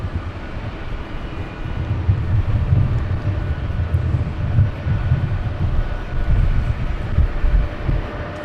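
Delta jet arriving from Boston on runway 24 right at LAX, a loud low engine roar with surging, pulsing swells across several seconds and no talk.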